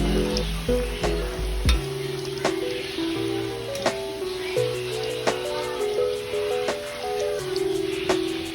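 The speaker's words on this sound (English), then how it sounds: "With this recipe, we are actually gonna double fry these." Breadfruit slices frying in hot oil give a steady, soft sizzle that runs throughout beneath louder tonal background music, with occasional light clicks.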